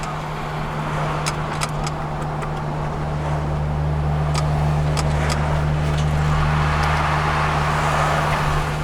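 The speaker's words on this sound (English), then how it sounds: "we'll accelerate a little bit so you guys can hear it, get through the RPMs" A Toyota Soarer, a classic Japanese car, drives along while its engine runs at a loud, steady drone, with road and wind noise and a few faint clicks.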